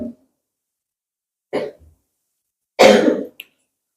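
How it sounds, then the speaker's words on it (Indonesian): Several coughs and throat-clearing sounds come close together, a short one followed by a louder, rougher cough, with silence between. "Ada yang batuk."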